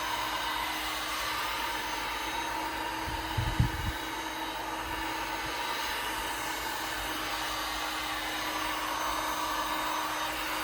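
A heat gun blows steadily while heating a fiberglass shaft, giving a continuous airy whir with a motor hum underneath. A brief low thump sounds near the middle, and the gun runs at an even level throughout.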